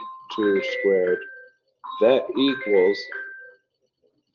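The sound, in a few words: mobile phone ringing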